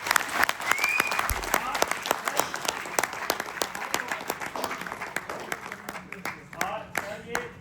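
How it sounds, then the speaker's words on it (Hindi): A crowd at a leadership event breaks into long, loud applause, many hands clapping in a thick, continuous wash, with voices faintly mixed in. "जोरदार ताली होना चाहिए इनके लिए"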